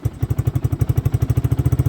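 A warmed-up Geon Scrambler 250 single-cylinder motorcycle idles close by with the choke off, its steady, even thumping pulses repeating rapidly and loud without any talk.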